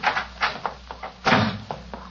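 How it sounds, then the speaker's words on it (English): A door slams shut in a sharp, fairly loud thump, set among a few softer knocks and bumps in a thin, old-sounding room recording with no talk. "She slammed the door in my face."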